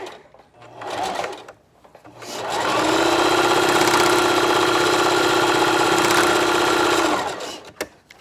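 A sewing machine runs a straight stitch on bikini fabric, a steady close mechanical whir lasting several seconds, with a couple of brief short bursts of stitching before it.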